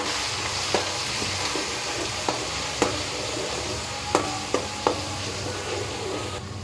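Ginger garlic paste and asafoetida hit hot oil for undhiyu, giving a loud, steady sizzle with a dense hiss, punctuated by several sharp taps of a spoon against the pan.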